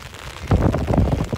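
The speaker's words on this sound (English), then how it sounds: "You get to the top, it's raining" Rain falling on a misty hilltop on Mount Diablo in the East Bay, a steady broadband patter that swells after a quiet start, with some wind noise against the microphone and no talking.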